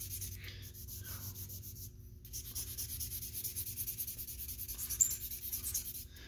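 Vine charcoal scraping and rubbing across paper during still-life shading, a soft continuous dry scratching that rises and falls in strokes, fairly quiet and close, with no voices.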